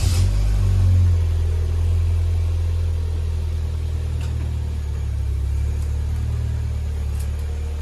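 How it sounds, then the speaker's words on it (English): A 2009 Vauxhall Corsa VXR hatchback with a standard setup rumbles steadily close by as it pulls away, its engine note building and holding at a loud, even drone. "Standard VXR, Corsa VXR 2009."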